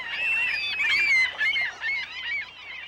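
Common gulls at a lake in an Irish national park give a run of wavering, nasal calls, close and fairly loud, in uneven bursts over quiet background, no talk.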